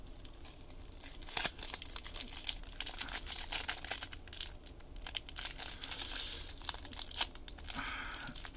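A 2020 Onyx Vintage baseball card pack wrapper is crinkled and torn open by hand, producing close, quiet, continuous rustling and crackling with small sharp tears and no talking.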